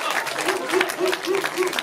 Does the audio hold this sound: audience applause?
yes